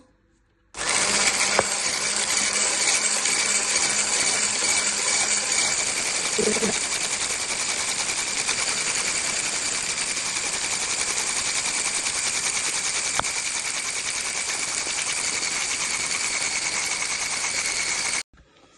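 Whipped cream being whisked for a key lime pie topping, likely with an electric mixer giving off a loud, steady mechanical whir that starts suddenly, runs for about seventeen seconds without a break, and then stops.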